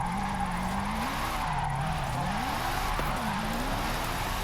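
Engine of a Formula Drift car in Forza Horizon drones steadily in fourth gear, pitch rising and falling through a sustained slide with continuous tire skid hiss underneath, loud and close with no talking.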